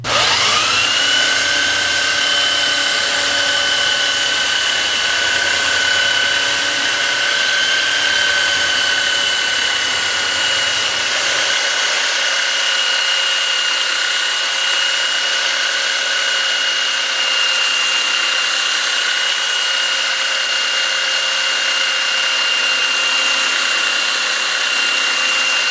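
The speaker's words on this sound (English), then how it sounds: "belt on there, a 60 grit, and we're going to knock the surface down flat, taking our time, running with the grain" Belt sander with a 60-grit belt flattening soft teak wood along the grain, a loud steady whining drone that runs without a break, its low rumble dropping away partway through.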